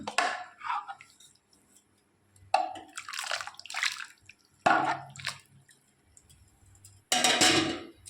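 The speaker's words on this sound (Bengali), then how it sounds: "কড়ার মধ্যে প্রথমে আমি জল দিয়ে দেবো" Water poured into a kadai cooking pan in several separate bursts of splashing and trickling, close and fairly loud, with quiet gaps between pours and no talk.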